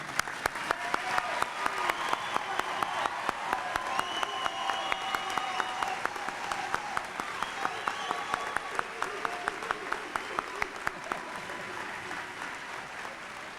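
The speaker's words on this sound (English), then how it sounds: "the spectators could do better than that in applause" Spectators at a 1990 college commencement applaud in a large hall, sustained crowd clapping with a strong rhythmic clap cutting through, plus some cheering and voices.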